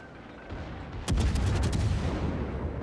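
Warship guns in World of Warships, fired from the cruiser Myoko toward the Pensacola: a sharp booming salvo lands about a second in, followed by a quick ripple of further cracks and a rumbling tail, with no voices.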